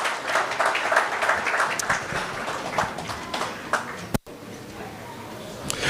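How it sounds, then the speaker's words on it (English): An audience at a book launch claps for the authors, a steady patter of many hands that is fairly soft and slightly distant, with a voice over the top and a single sharp knock near the end. "One maybe last round of applause, please, for our authors."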